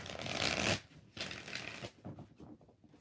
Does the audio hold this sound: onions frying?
no